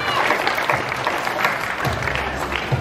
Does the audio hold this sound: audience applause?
yes